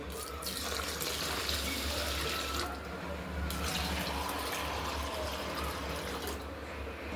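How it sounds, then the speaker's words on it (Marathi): Steady running water pours from a tap onto soaked rice and lentils in a container, a continuous close splashing rush with no talking. "आपण आता याच्यामध्ये पाणी घालू"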